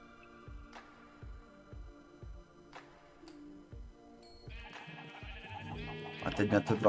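Sheep bleating in the Minecraft video game, a string of short evenly spaced game bleats, followed by busier layered game sounds that grow louder toward the end.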